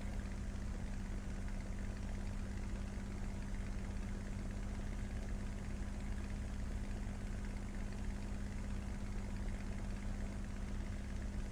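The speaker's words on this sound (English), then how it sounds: "The engine of the 2B Trop sounds different as well." Engine of a 2B Trop aircraft in a flight simulator game, a soft, steady low droning hum with a constant tone that holds evenly and quietly throughout without change.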